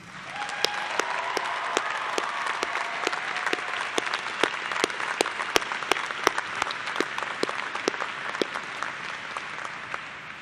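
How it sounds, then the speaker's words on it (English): Sustained applause from an audience of students and families at the UMass Amherst Commonwealth Honors College Celebration of Excellence ceremony, a steady wash of many hands clapping with sharp individual claps standing out, continuing evenly throughout. "Students, please join me in applause for your families."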